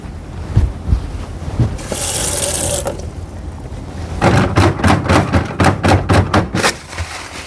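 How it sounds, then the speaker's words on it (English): Bedpan contents are poured into a toilet with a brief, close splashing gush, then a run of rhythmic watery swishes. "So what I'm going to do right now is go ahead and empty the contents into the toilet."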